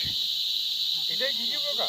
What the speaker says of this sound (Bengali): এই ঝিঝি পোকাটা